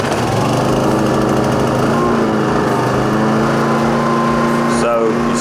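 An Atima AY3000i portable inverter generator running steadily up close, a loud continuous engine drone with a constant hum throughout.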